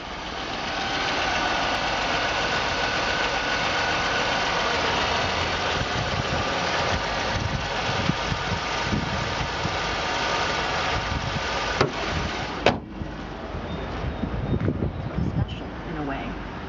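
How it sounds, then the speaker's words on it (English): A 1998 Chevrolet Lumina sedan engine runs steadily at idle, a continuous mid-pitched hum with faint vibration, recorded close, while a voice talks over it. "starts, runs, moves in forward and reverse"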